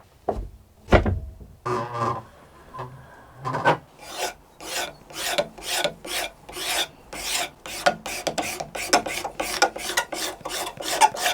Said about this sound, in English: I'm going to clean up a little bit the surface of the fingerboard